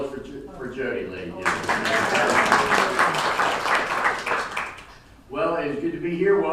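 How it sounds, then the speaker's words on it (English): Audience applause for Jody at a senior show at The Samarkand in Santa Barbara: a dense burst of clapping rises after a voice, holds for several seconds, then drops away as he talks again. "Let's have a round of applause for Jody"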